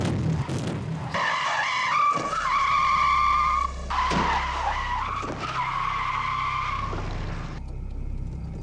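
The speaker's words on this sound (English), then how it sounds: "TIF will, as in a real collision, brake to about 30 miles an hour before hitting an average-sized 75-kilo dummy" 4x4 car braking hard ahead of striking a 75-kilo crash test dummy at about 30 mph, loud prolonged tyre squeal in two long screeching stretches with a thump between.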